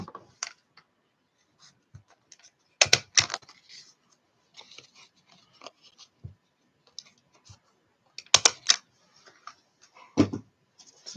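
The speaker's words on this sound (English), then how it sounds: "So just staple that on." A stapler fastens lacy netting, making a few loud, sharp mechanical clacks spaced seconds apart, with faint rustling and handling sounds in between.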